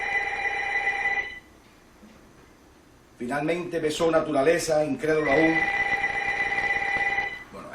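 A telephone rings with a steady electronic tone during an interview, pausing briefly and then sounding again loudly while a person speaks over it.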